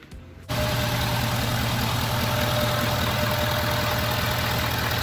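A heavy 2016 Ford 6.7-litre turbo diesel truck engine rumbles to life after a brief quiet moment, then idles steadily with a low, even throb that holds without letup.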